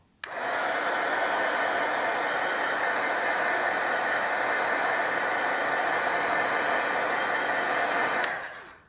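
Close, steady roar of an embossing heat tool drying watercolor paint, starting abruptly and running evenly for about eight seconds before switching off.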